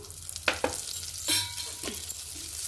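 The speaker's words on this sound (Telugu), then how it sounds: "ఫ్రై చేసుకున్నాం లైట్గా కలర్ మారే వరకు వేయించుకుందాం" A cup of vermicelli fries in ghee with a steady, close sizzle, broken by several scraping stirs of a spoon in the pan.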